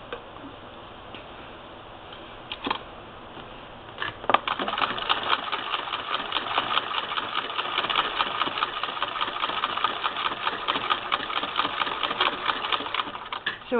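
A 1959 Singer Spartan sewing machine starts up after a few quiet seconds of clicks, then stitches with a rapid, even mechanical ticking and a light motor hum. The sound is close and steady, with no talking.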